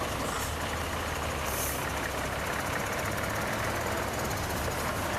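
A Mercedes 1834 truck in a wagon run drives by with a steady, fairly loud engine rumble over a constant broad road and wind noise.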